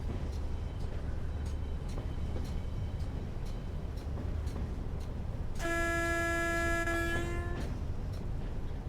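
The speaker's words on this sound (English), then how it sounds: "And now let's rush this locomotive to the electric maintenance depot." An electric locomotive runs with a steady low rumble in the Train Sim World 6 game on the West Coast Main Line between Crewe and Preston. A loud, sustained horn sounds partway through.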